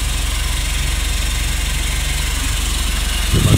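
An Isuzu 4JJ1 diesel engine fitted with a new turbocharger idling steadily, a close, continuous low rumble with a rhythmic knock and a brief louder clatter at the very end.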